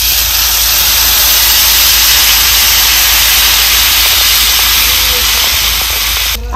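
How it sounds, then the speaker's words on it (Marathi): Water hits a hot pan of sautéed masala for a village-style green chickpea aamti, setting off a loud, close, steady sizzling hiss that holds for several seconds before cutting off abruptly. "आता ह्याच्यात आपल्याला घालायचे पाणी."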